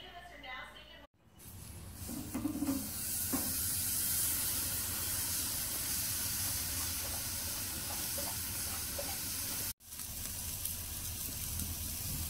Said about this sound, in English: let's cook this steak up here